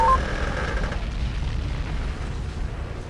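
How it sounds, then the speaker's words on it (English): Earthquake rumbling in the video game Lands of Lore III, a deep continuous low rumble with a faint tonal beep fading out early, steady and moderately quiet throughout. "There's a lot of earthquakes this time, which makes controlling a bit wonky"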